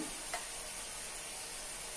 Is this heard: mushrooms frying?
yes